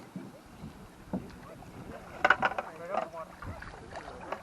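A homemade canoe built from plywood and zip ties slides into the water for its first launch, with a brief cluster of splashes and knocks midway over wind noise and faint voices.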